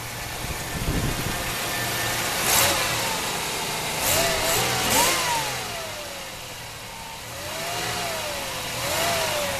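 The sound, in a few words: 1992 Oldsmobile Eighty Eight car engine running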